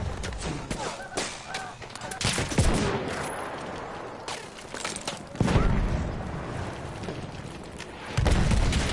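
A blue assault tank firing in the Battlefield shooter, heavy booming blasts landing every few seconds amid dense battlefield noise and scattered gunfire, with faint voices in the mix.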